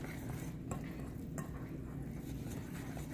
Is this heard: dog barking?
no